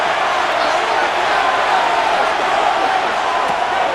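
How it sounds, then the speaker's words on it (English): A steady, dense stadium crowd roar rises in a Madden NFL 26 simulated Rams versus Cardinals game, loud and unbroken as the fans get into it ahead of a third-down play. "This crowd into it now as we get to third down."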